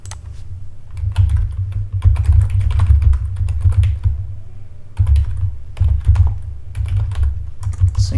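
Computer keyboard typing out a ChatGPT prompt: close, rapid bursts of clattering keystrokes with a brief pause near the middle, heard on its own without talk.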